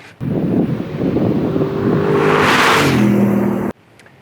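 A 2009 Audi R8 with a 420-horsepower V8 and six-speed automatic roars loudly as it accelerates, its engine note rising steadily over wind rush for several seconds before cutting off abruptly.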